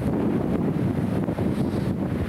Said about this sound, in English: Getting a little windy up here, as you can probably hear also.